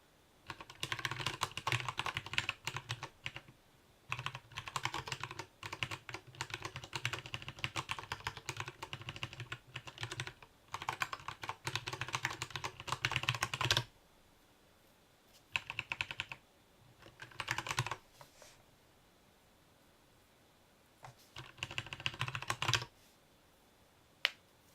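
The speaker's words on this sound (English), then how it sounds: "the mic is pretty close and it's a pretty damn loud keyboard as well" A loud mechanical computer keyboard is typed on right next to a close microphone, producing long bursts of rapid clicking separated by brief pauses, then shorter bursts with longer silences toward the end.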